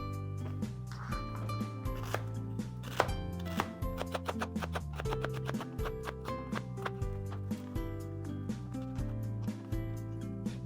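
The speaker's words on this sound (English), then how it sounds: "so I had to end up chopping it anyway" Knife chopping vegetables for chicken tortilla soup on a board, a run of sharp, fairly regular knocks over steady background music.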